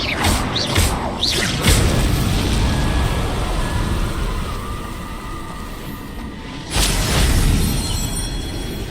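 An Expelliarmus spell cast in Hogwarts Legacy: loud whooshing magical blasts and crashing impacts surge over a steady rumbling background, with a second strong burst near the end.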